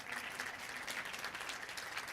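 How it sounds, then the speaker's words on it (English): Steady audience applause at a World Bank annual meeting as Ivanka Trump comes up to take a seat, even continuous clapping heard faintly and from a distance, with no talk over it. "You can give her a round of applause."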